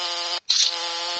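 A cartoonish electric buzz of a bee in the mobile game Ant Smasher 2, steady and fairly loud, cutting out briefly once before resuming for about a second.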